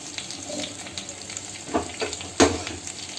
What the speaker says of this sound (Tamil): மீடியமான ஃப்ளேமில் வச்சு நல்லா ஃப்ரை பண்ணிக்கோங்க